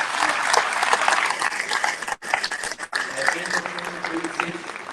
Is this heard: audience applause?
yes